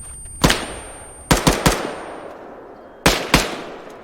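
Suppressing gunfire in the video game Arma 3: sharp, loud shots fired singly and in quick pairs and triplets, each cracking and then decaying, with no talk.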